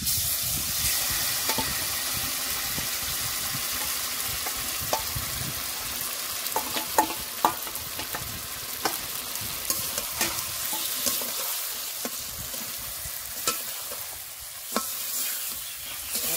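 Marinated katla fish sizzles and fries in hot oil in a kadai. A steady crackling hiss runs throughout, broken by scattered sharp pops and stirring scrapes, close up, with no voices.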